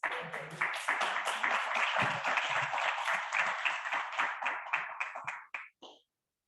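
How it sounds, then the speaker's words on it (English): Steady hand clapping from one or a few people in an online meeting, a brisk, even run of claps that slows and trails off near the end. "Thank you for the clap there"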